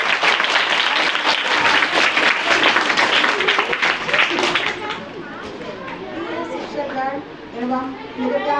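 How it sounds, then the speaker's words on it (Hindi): Loud, sustained applause from a crowd of schoolchildren greets the Hindi teacher at a school Hindi Day celebration, with the clapping fading after about five seconds into scattered children's chatter. "स्वागत करिएगा फिर से जोरदार तालियों के साथ"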